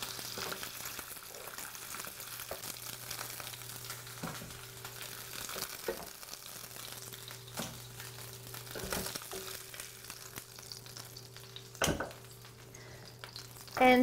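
Lamb knuckles fry in oil in a pan, giving a steady close sizzle with occasional sharper pops and crackles and no voices.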